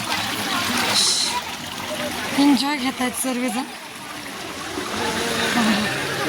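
Water flows and splashes at Konkan Kada in a steady rushing wash, with people talking and calling out over it throughout.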